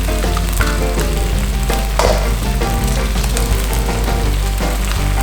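Eggs and fermented sour pork fry in a hot pan for a Thai stir-fry, a dense, crackling sizzle that pops and spits steadily at close range.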